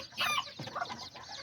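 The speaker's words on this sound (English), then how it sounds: "all her babies right there, 9 little white chicks. Yeah, with the white little mom chicken." A white mother hen clucks among her nine little white chicks, a few soft close clucks and peeping notes in a quiet coop, with no voices.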